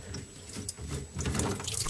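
Water drains from a bathroom sink's U-shaped drain trap into a bucket below, a close, continuous trickling and splashing of liquid with small drip-like spurts throughout.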